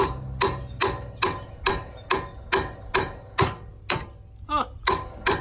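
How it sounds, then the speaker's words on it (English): A hammer drives out the axle seals on a Jeep Wrangler JKU: about eleven sharp metallic blows land at an even pace, roughly two a second, each ringing briefly before the next. "All right, now we gotta hammer these things out."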